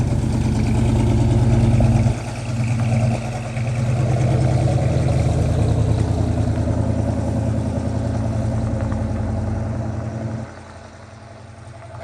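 A 1972 Chevelle SS muscle car engine on a test drive, a loud, steady, deep rumble that continues throughout and drops briefly in level near the end.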